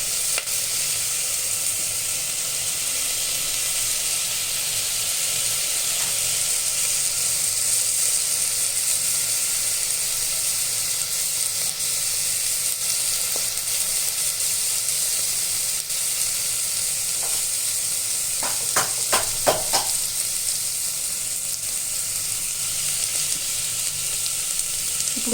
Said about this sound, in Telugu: ఇప్పుడు ఈ ఉల్లిపాయలు వేగాక ఈ ఉల్లిపాయలు వేగాయి కదండి